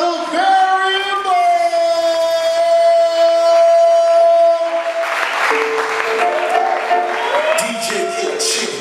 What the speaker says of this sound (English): Start clapping right now, start clapping right now.